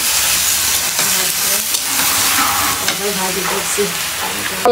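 Curry sizzles and fries steadily in a hot pan, with stirring scrapes and crackling spatters running throughout at close range, loud and continuous.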